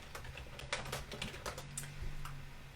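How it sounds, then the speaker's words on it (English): Fingers typing on a computer keyboard, a short run of soft, quick key taps in uneven clusters, close and fairly quiet, no voices. "So I'm actually going to type it in here."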